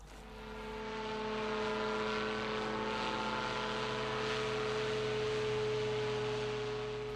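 A two-seat paramotor trike, with the pilot in front, a passenger behind and the engine mounted at the rear, drones steadily as its engine and propeller build to a loud, sustained roar with no talking.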